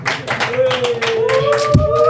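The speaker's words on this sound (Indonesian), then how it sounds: "tepuk tangan dong bintang tamu kita" A small audience claps for a guest star on a comedy podcast set, a handful of evenly spaced claps under overlapping voices and a held vocal tone.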